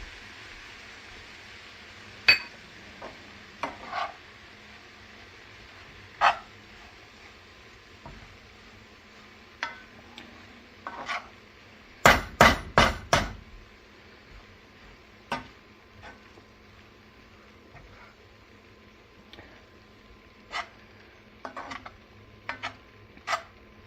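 A utensil stirs lime juice into a bread toast mixture with cabbage in a pan on a switched-off stove, giving sparse scraping taps against the pan and a brief quick flurry of clatters midway.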